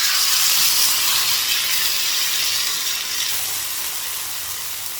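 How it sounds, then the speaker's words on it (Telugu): Tomato paste and masalas fry in a tablespoon of ghee, giving a loud, close, steady sizzling hiss that eases slightly toward the end, with no voices. "నెయ్యి ఒక టేబుల్ స్పూన్ వేస్తాను. ఇందులో రుబ్బుకున్న టమాటా పేస్ట్, మసాలాలు వేసేస్తున్నాను, ఎందుకంటే ఇవి వేగాలి"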